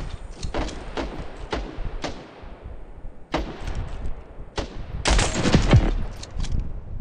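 Bursts of gunfire in the game Standoff 2, sniper battle mode: quick single shots and short rattling volleys, sharp and close, with a heavier cluster of shots near the end.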